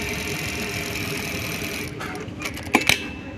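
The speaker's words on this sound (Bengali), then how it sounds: "দেখি এখন আমরা সেলাই করে দেখি।" A Brother S-7250A industrial lockstitch sewing machine runs in a steady fast hum for about two seconds, then stops, followed by a few sharp clicks and clatters close by.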